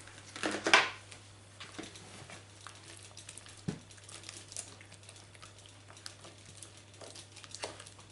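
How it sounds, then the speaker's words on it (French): Tart filling is stirred in a bowl: soft scraping and wet patter, occasional utensil clinks against the side, one louder knock early on, close and quiet with no voices. "Donc on mélange bien."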